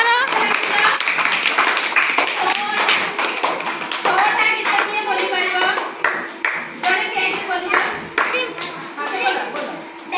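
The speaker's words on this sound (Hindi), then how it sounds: "समस्त ताली मार" A group of children claps together in a classroom activity, a run of bright, fairly close hand claps with some uneven rhythm, while children's voices chatter over and between the claps.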